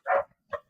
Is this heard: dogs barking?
yes